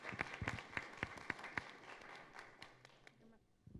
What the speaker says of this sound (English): let's give a big round of applause for Soraya and Mega.